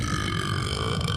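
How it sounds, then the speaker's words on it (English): A cartoon character lets out one drawn-out, rumbling, gravelly burp that fills the whole short moment at close range. "That's the same burp from the concert."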